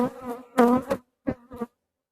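Loud, close buzzing of honeybees at a hive in October, in short droning bursts cutting in and out with brief silent pauses between.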